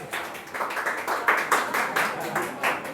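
Students clapping in a class, a quick, fairly faint patter of hand claps repeating in an uneven rhythm, with a voice talking over it.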